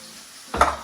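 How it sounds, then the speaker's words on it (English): Potatoes sauteing in a pan for a Venetian-style liver dish, a short sizzling stir that bursts in suddenly after quiet and fades slightly, close and fairly loud. "we're going to mix those together, saute the potatoes"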